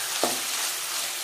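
Steady, hissing sizzle of masala sautéing in a pan for masala sundal, with a single soft scrape or clink of stirring near the start.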